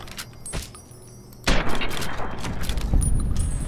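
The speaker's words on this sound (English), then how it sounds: "This gun sucks. Laser pistol." A laser pistol fires in Fallout New Vegas, a sudden loud burst followed by a sustained noisy zap and crackle, with faint clicks beforehand.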